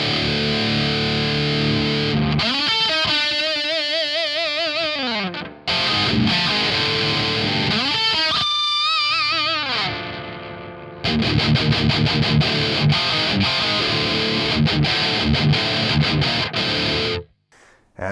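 Heavily distorted electric guitar with reverb, chords and bends ringing out, a few brief gaps, then chugging rapid riffs that stop abruptly near the end.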